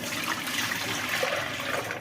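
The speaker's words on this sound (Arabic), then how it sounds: "هون أول شي بالبداية رح نضيف لتر حليب." A liter of milk is poured into a pot, making a continuous close liquid gush and splash for about two seconds with no voices.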